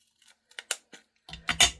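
Scissors snipping paper in a craft setup, a few sharp separate snips followed by a quicker cluster of louder cuts and rustles, close and dry with no talking.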